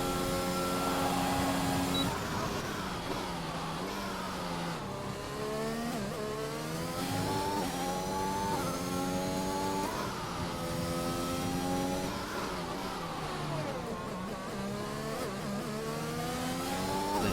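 F1 car engine in a racing video game on a hot lap at Zandvoort, loud and close, rising in pitch through the gears with repeated upshift drops and downshift swoops over the lap.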